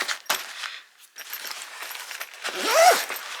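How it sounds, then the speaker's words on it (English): A two-way zipper on a fabric VR headset carrying case is pulled in one quick, close zip near the end, after a few soft handling rustles. "it has a two-way zipper, a zipper that goes all the way and really flattens the bag out"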